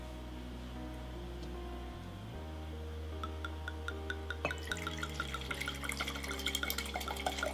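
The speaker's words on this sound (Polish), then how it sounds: "po chwili nalewamy od 170 do 200 ml wina" Wine being poured into a glass indoors, a steady liquid trickle with small drips and splashes building toward the end over a low continuous hum.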